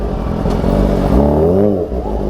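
Kawasaki ZX25R motorcycle exhaust revving at a Sunday morning ride, a loud, close engine note rising in pitch mid-clip and falling away, over a steady idle rumble.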